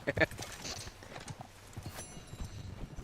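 Horse hooves clip-clop in a video game, a quick cluster of hoofbeats near the start and scattered thuds after, with a person talking over them.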